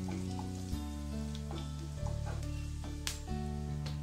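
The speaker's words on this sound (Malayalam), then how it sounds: "വറ്റൽമുളകും കൂടി ഇട്ട് കൊടുത്തു." Dried red chillies and mustard seeds sizzle in hot oil for a pumpkin and bean erissery, a steady, close, crackling hiss with small pops throughout.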